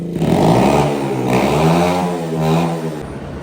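A Kawasaki Z80R dirt bike engine revs loudly and close, rising and falling in pitch in repeated throttle blips.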